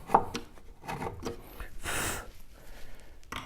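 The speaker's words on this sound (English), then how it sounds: "And then I'm going to remove it here with a small chisel." A small chisel pares wood while fitting the binding on the front of a classical guitar. A few soft, close scraping strokes are heard in a quiet room, faint and brief.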